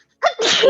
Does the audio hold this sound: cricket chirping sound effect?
no